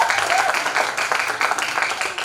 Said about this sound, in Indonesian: Sekali lagi tepuk tangan untuk tingkat